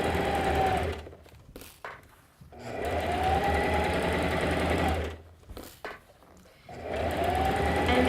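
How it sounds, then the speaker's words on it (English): A Singer Classic 44S sewing machine stitches through thick fabric in a curved seam, its fast, even motor whir and needle clatter running in three close bursts separated by short pauses and soft handling noises. "we're sewing in a big circle all the way around"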